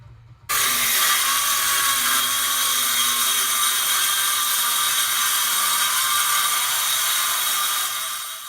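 A power saw cuts through scrap wood for a coffee table build, starting abruptly after a brief quiet moment and running as one loud, steady whirring cut that fades slightly at the end; no talking.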